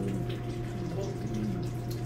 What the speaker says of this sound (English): And I'm going to dilute it with some water.